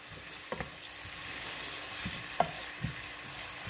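Floured, salted and peppered beef for stew browning in a pan: a low steady sizzle with a few soft clinks and scrapes of a utensil, close and fairly quiet, no voices.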